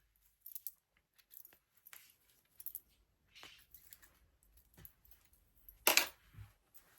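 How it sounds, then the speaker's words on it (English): Small thread snips clip apart chain-pieced quilt units in a series of faint, sparse metallic snicks and clicks, with one sharper, louder snip near the end and no speech. "take a small pair of snips and I'm just going to cut these apart"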